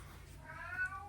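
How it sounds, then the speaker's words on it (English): A cat meows in another room during an indoor shipping session, one drawn-out, faint and distant cry over a quiet room hum. "I don't know if you can hear Ariel, she's meowing over there."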